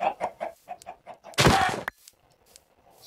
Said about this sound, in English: Alright, so we got some chickens now.